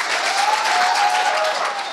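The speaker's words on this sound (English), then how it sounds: "I think that deserves a particularly large round of applause" A brief burst of dense audience applause at a company groundbreaking ceremony honouring long-serving employees, steady and fairly loud with a faint tonal voice or whistle passing through.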